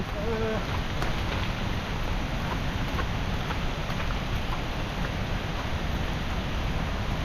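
Rain falls steadily on a forest trail at Khao Yai during a hike, a continuous hiss of drops on leaves and ground, fairly soft and unbroken throughout.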